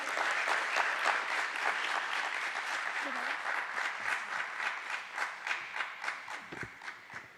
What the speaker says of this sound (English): Can we also hear a thunderous round of applause for her as well?